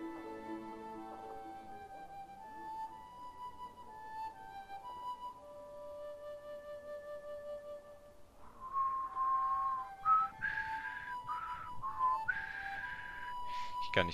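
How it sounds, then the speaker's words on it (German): Flute melody in the Child of Light video game, soft sustained notes drifting slowly, then a brighter run of quicker, breathy higher tones near the end, played alone. "Oh ja, jetzt spielt sie wieder Flöte."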